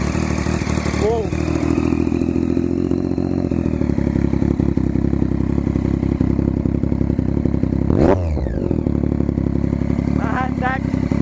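A Triumph Daytona 675 motorcycle engine idles with a steady, loud throb, then is revved in a few sharp bursts that rise and fall, close up, with a short voice exclamation in between.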